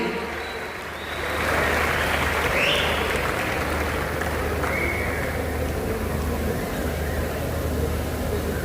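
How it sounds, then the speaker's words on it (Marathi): A theatre audience applauding after a play by actor Prashant Damle, a dense, sustained wash of clapping that swells after the first second and holds steady, full and close, with no clear speech. "मला वाटत नाही टाळ्या थांबल्या पाहिजेत."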